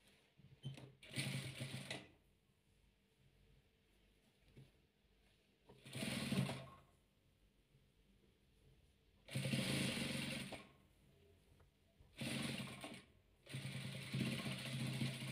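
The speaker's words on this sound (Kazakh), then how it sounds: "Енді келесін құрап тігіп жүреміз." A sewing machine stitches royal velour patchwork in short bursts, five quiet runs of rapid whirring, each a second or two long, separated by near-silent pauses.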